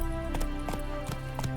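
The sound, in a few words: horse hooves in The Witcher 3 video game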